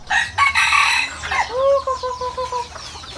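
Chickens cluck and a rooster crows nearby outdoors on a small farm where young chicks roam free, with dense overlapping calls and a drawn-out crow near the end.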